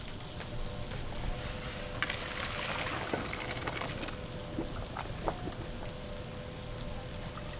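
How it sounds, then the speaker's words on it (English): Freshly cooked rice is tipped into a strainer, and the cooking water drains in a steady, close, hissing wash with a few small splashes and clinks. No one speaks. "So we're gonna strain this rice."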